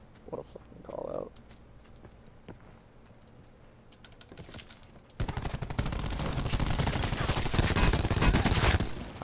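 Rapid automatic gunfire in Call of Duty Blackout, a sudden loud sustained burst that starts midway after quieter scattered shots and faint voices.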